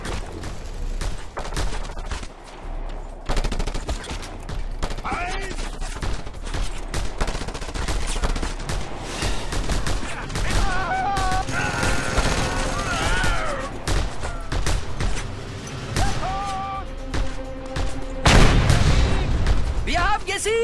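A gun emplacement fires in Just Cause 2, loud bursts of gunfire and booms that keep going amid chaotic combat noise, with voices talking over parts of it.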